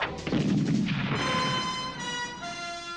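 A tank cannon fires in a wartime battle scene: one heavy, close boom that fades into a sustained ringing tone.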